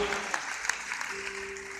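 A church congregation claps at a Christmas service, with dense, moderately faint applause that runs steadily for under two seconds.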